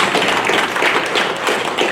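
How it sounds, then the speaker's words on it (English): An audience applauds law enforcement officers at a Women's Month proclamation signing: dense, steady clapping that fills the room at close range and holds at an even level for the whole span. "Please join me in giving them a round of applause."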